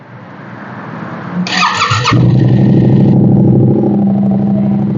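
A Yamaha R7 motorcycle starts up. A short whirring crank catches into a loud engine that settles into a steady, rumbling idle.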